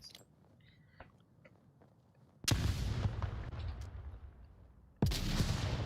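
A frag grenade detonates close by in the Onward VR shooter, a sudden loud broadband blast at about 2.4 seconds that decays slowly, followed by a second sharp explosion near the end over faint background game noise.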